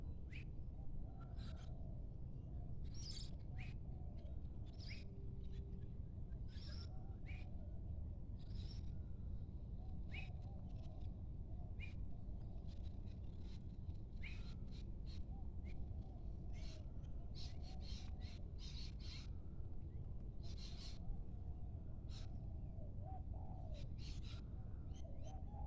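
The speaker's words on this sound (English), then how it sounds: "Hear the birds?" Morning birdsong after rain: soft repeated cooing and scattered chirps and calls sound faint and distant over a constant hiss of background noise.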